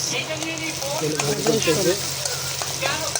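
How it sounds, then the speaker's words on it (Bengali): Onion and garlic sizzle in hot oil as a tempering for bottle gourd greens, a steady close crackling fry throughout with voices murmuring faintly underneath. "পেঁয়াজ রসুন এখন বাগার দিবে।"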